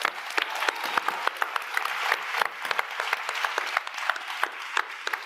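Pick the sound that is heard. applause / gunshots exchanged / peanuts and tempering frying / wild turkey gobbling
applause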